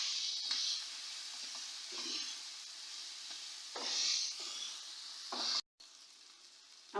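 Garam masala and whole cumin seeds sizzle and get stirred in a hot pan for a chicken bun filling, a steady close frying hiss broken by several scraping stirs.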